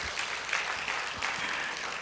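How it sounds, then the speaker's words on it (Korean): Congregation applauding during a Sunday church service, a steady wash of many hands clapping at moderate level throughout, without talk. "우리 애써주시면 박수 한번 할까요?"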